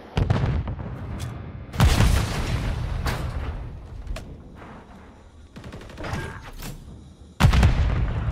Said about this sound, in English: Okay, and they're shooting back.